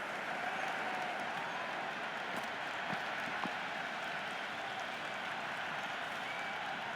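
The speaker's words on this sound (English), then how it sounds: "The crowd is electric right now." A stadium crowd in a Cricket 26 England vs Australia T10 match at a roofed stadium roars steadily, a dense, continuous wash of cheering and applause with no voices standing out.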